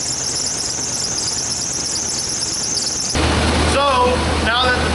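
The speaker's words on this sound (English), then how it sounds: "Classic belt squeal that she's had forever." A 1987 Chevy square body 4x4 truck idles with a steady high belt squeal running loud for about three seconds, then the engine note shifts lower and rougher while brief chirping squeaks break through.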